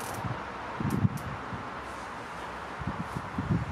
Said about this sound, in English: There's a lot of wind now from left to right